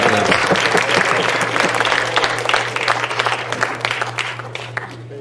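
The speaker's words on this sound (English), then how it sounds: "let's give our hosts another big round of applause" A conference audience applauds its hosts, steady dense clapping from a large crowd that holds for the whole stretch and only slightly thins toward the end, with a low steady hum beneath.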